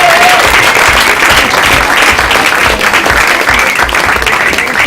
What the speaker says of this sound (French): on peut l'applaudir, merci d'être venu